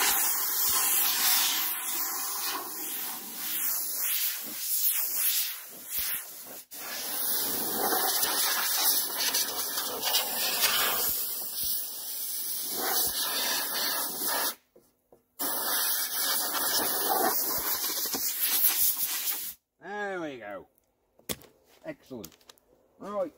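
A spray gun applies primer inside a spray booth during DIY car body repair, making long, steady hissing bursts broken by short pauses, with someone talking now and then.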